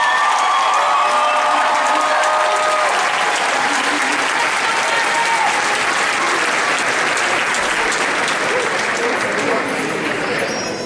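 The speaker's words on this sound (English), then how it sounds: "Let's give all of our graduates one more gigantic round of applause." Loud, dense applause and cheering for graduates at a university multicultural graduation ceremony, a large crowd clapping continuously with whoops and shouts rising over the roar, holding strong throughout before easing slightly at the end.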